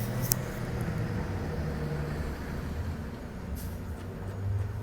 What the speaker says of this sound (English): Nice BMW.